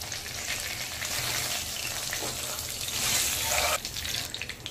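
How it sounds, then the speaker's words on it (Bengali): Pieces of rui fish fry in hot oil, a close, steady sizzle and crackle that swells toward the end, with faint clinks of handling and no speech. "মাছটাকে একটু লাল করে ভেজে নিতে হবে।"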